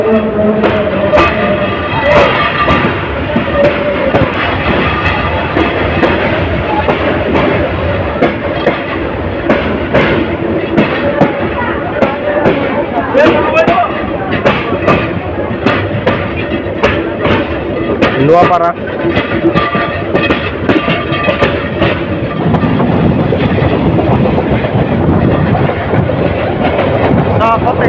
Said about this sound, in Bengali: ট্রেনটি নোয়াপাড়া রেল স্টেশন ছেড়ে যাচ্ছে